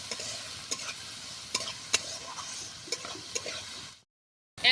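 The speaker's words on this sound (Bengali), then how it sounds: "ভালোভাবে বেগুন আর চিংড়ি মাছটাকে কষিয়ে নেব" Eggplant and prawns with turmeric and salt sautéing in a pan, sizzling under repeated sharp spoon scrapes and knocks against the pan, then a sudden cutoff to silence before a brief burst returns.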